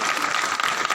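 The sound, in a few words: audience applause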